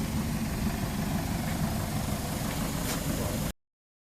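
The 1KD-FTV diesel engine of a 2010 Toyota Hiace with a knocking fault idles steadily as a continuous low rumble and clatter, close and even, then stops abruptly near the end.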